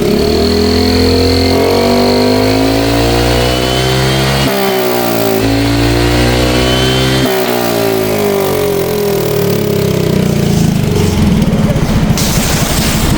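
A motorcycle fitted with a Villain 370 carbon muffler and silencer revs loudly and close by, its engine rising and falling in repeated throttle bursts, with no one speaking.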